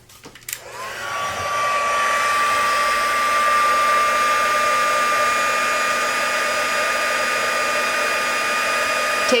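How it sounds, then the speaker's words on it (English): A heat gun clicks on and spins up to a loud, steady blowing whine as it heat-sets embossing powder, then holds constant to the end. "grab my heat gun"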